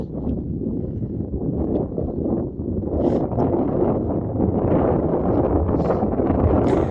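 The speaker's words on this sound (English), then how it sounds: "There's a good wind, yes. Good breeze." Strong wind buffeting a microphone outdoors in the hills near Veneta, Oregon, a continuous loud low rumble with brief rustling gusts, no voices.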